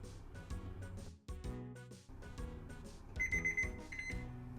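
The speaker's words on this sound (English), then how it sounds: "we're going to set the timer for 25 minutes" An oven timer goes off after 25 minutes of baking a Japanese-style strawberry shortcake, giving a run of high, evenly spaced beeps near the end over background music.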